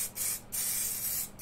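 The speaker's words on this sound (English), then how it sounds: "layering spray" Layering spray hisses from a can onto a model cliff face in two close bursts, a long spray followed by a shorter one, with no talk.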